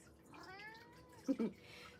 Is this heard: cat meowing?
yes